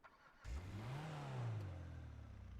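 A Japanese car's exhaust in GTA 5 revs up once with a deep throaty roar, holds briefly, then settles into a lower rumble, clean and close.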